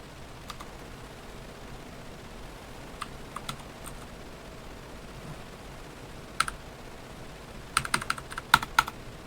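Keys clatter on a computer keyboard in sparse, quiet bursts of keystrokes over a soft background hiss, with a quicker cluster of taps near the end.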